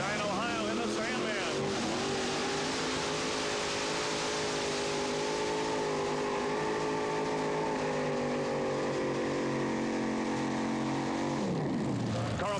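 A modified pulling tractor at a 1993 Grand National pull roars off the line, a loud sustained engine blare that climbs in pitch and holds before cutting off near the end, with an announcer talking over it.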